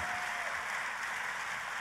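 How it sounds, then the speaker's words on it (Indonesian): Faint, distant applause from a church congregation during a sermon, a steady wash of many hands clapping with no distinct individual claps standing out. "Katakan amin dan tepuk tangan yang paling meriah buat Tuhan kita."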